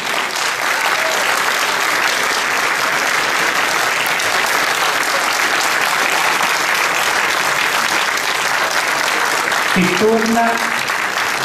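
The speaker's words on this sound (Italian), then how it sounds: "un grande applauso ad Alfredo Martini" Sustained applause at a Toscana 2013 road cycling world championships statue unveiling for Ballerini, honouring Alfredo Martini; steady, dense clapping fills the clip, with a brief voice near the end.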